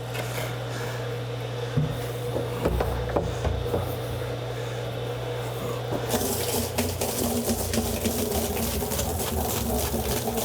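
Scotch whisky drawn from a sherry cask barrel pours steadily in a continuous liquid splash and trickle, close by, with a low steady hum underneath and a brief knock near the start.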